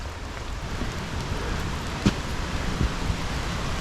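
Storm runoff and rain at a snowy mountain campsite make a steady, dense wash of water noise with a couple of faint knocks.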